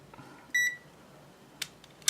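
A pocket digital multimeter gives a short, clear electronic beep, followed by faint clicks and a tiny chirp near the end, in a quiet bench setting.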